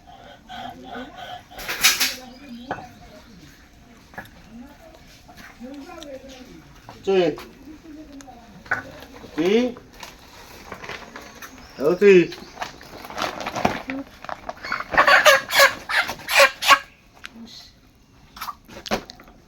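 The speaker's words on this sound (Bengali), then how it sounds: "মুরগি নিয়ে আসলে দেখুন মরিয়ামের।" Broiler chickens brought from the market cluck repeatedly up close in short, uneven bursts, joined by scattered rustling and flapping noises between calls.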